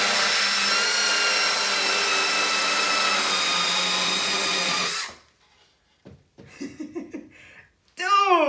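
A Bosch Nano Blade 12V saw whines steadily and loudly for about five seconds as it cuts drywall, then stops abruptly, followed by brief voices and an exclamation.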